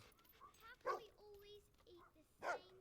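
A dog in the video game Fable II gives two short, sharp barks with soft whimpering tones between them. The sounds are fairly faint over a quiet background.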